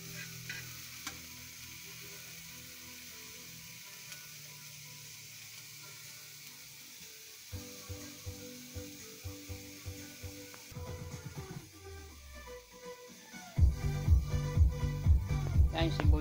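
Onions sautéing in a pan for a sardine and tuna dish, quiet sizzle and intermittent scraping stirs that grow louder and busier toward the end, with occasional faint background sounds.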